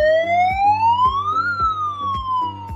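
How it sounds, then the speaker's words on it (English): A fire alarm siren sounding during a Sabbath service at King Street SDA Church: a loud, steady electronic wail that climbs in pitch and then falls, with a regular pulsing beat beneath it. "In the event of a fire, a siren will be sounded."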